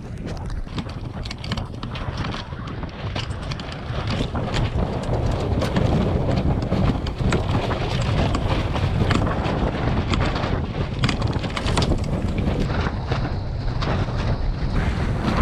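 Wind of a dying squall blows over a sailboat at sea, a steady loud rush with gusty buffeting against the microphone throughout, no talk.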